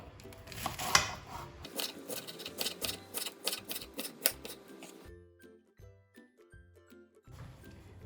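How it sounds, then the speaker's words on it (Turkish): A knife chops bell peppers steadily on a cutting board, quick close strokes in a regular rhythm, then a few sparser cuts after a short pause. "2 tane kapya biberi çok ince olmayacak şekilde doğruyorum."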